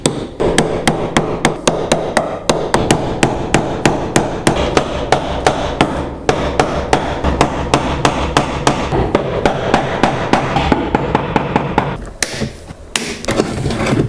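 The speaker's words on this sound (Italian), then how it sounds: "Useremo i nostri scalpellini da legno della Parkside" Rapid, regular hammer blows strike Parkside wood chisels, sharp close knocks repeating steadily several times per second with a short pause near the end before tapping resumes.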